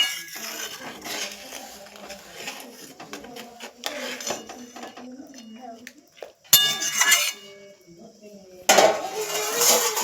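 Chicken curry being stirred in a pot with a metal spoon, then the pot covered with a lid: clinks and scrapes of metal on metal under a speaking voice, with sharper lid clatters near the end.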